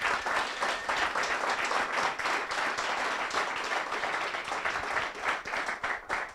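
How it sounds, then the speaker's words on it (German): Dense applause from an audience at an evening internet-policy talk, continuous clapping from many people held at steady strength for several seconds in a room. "Bitte einen Applaus."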